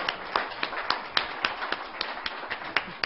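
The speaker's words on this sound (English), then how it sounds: "Round of applause for Dr. Hancock" A small audience claps after a lecture on breeding strawberries and blueberries, a brief round of distinct, fairly sparse hand claps with a loose rhythm, close and moderately loud.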